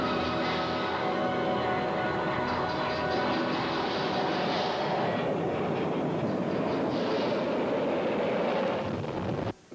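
A jet airliner landing on an icy runway in 30-knot crosswinds in the film Die Hard 2, heard as a loud, continuous roaring rush of engine and wind that ends abruptly.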